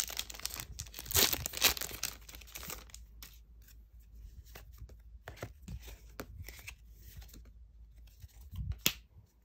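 A pull tab on an Innistrad Midnight Hunt set booster box is torn open up close, bringing quiet bursts of tearing cardboard and crinkling foil between sharp clicks and pauses, with no talking.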